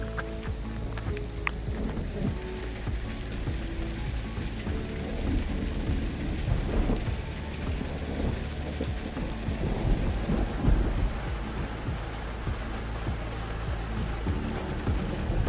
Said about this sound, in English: Hailstones.